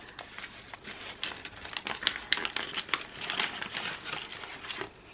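Paper and packaging crinkle and crumple in quick irregular bursts, close by and fairly soft, with brief pauses between handfuls.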